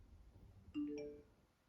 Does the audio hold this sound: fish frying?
no